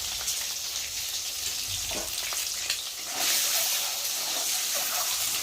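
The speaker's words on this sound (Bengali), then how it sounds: "আমি ডিমটাকে ভালো করে ভেজে নেব।" Eggs frying in hot oil for an egg curry give a steady, close hiss and crackle that continues throughout, swelling louder partway through, with occasional soft stirring noises and no voices.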